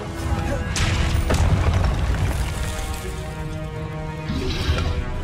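Fire spell explosions in the Hogwarts Legacy video game, a couple of loud booming bursts with crackling blasts over continuous game noise.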